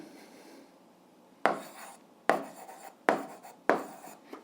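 Writing out an eighth-grade algebra solution, heard as four distinct scratching strokes of a pen or chalk, close and fairly loud, following a quiet pause with no talking.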